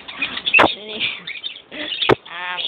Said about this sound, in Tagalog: nandito po tayo sa isang bird farm